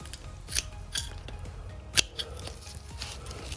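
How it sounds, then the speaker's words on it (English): Scissors snip through the roots of a Gasteria batesiana plant during repotting, giving a few quiet, sharp crisp cuts with soft rustling between them, close by and with no speech. "you have to cut a little bit of the root like this"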